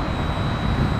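Southwest Airlines jet airliner at Tampa airport, a steady broadband engine roar with a thin high whine running throughout, loud and continuous for about a second with no talk.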